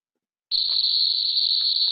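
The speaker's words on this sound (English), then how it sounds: "Cicadas, for example, produce sounds that are so loud, 120 decibels, that it can be painful to the human ear" A sudden, loud, steady high-pitched buzz of cicadas singing begins after a brief silence and continues unbroken, sounding close.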